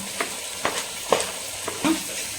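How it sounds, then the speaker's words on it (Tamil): Tomatoes sauté in a pan with a soft, steady sizzle, broken by several sharp scraping stirs spaced roughly half a second apart, close and moderately loud. "தக்காளி வதங்கட்டும்."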